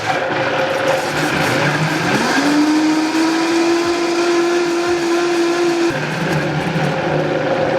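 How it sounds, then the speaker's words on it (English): A blender whirs through coconut milk, pumpkin puree and lemon juice for a pumpkin smoothie, its motor rising in pitch after about two seconds, holding a steady whine, then dropping back near six seconds; loud and continuous with no talking. "we're going to blend everything together"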